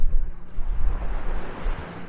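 Ocean waves at Patong Beach in Phuket, Thailand, a loud, steady rush of surf with rumbling wash and some wind buffeting, with no voices.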